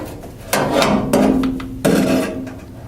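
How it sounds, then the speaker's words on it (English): Center control switch panel of a Windster RA-76 range hood being slid out by hand, three sharp scraping knocks and sliding rubs spaced about half a second apart, close and fairly loud with no talking. "now that we have both screws removed for the center control switch panel, we can go ahead and slide it out"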